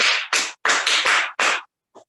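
An audience at a Cameroonian quiz and song gathering claps in short, loud, rhythmic bursts, about six close strokes followed by a faint final clap, with no talking.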